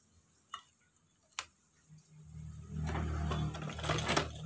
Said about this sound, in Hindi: तो इस पर भी हम सिलाई लगाते जाएंगे इस तरह से अंदर डालकर।